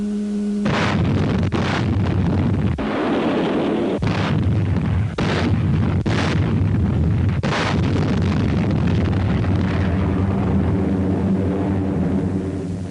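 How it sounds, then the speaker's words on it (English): Warships shelling Kwajalein Atoll in World War II: a string of heavy, booming explosions at irregular intervals, loud and rumbling over continuous low music in an archival wartime soundtrack. "On January 29th, the warships began their softening up of Kwajalein Atoll."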